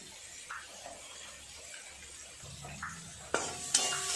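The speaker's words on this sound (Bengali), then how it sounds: "নেড়ে নেড়ে খুব সুন্দর করে ভাজা করে নেবো, তাহলে পেঁয়াজ টমেটো একদম গলে যাবে" Onion, tomato and spices fry and get stirred in a pan for spicy egg curry, a faint low sizzle with soft scraping stirs and a couple of sharper clinks near the end.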